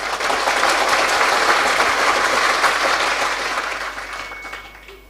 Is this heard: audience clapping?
yes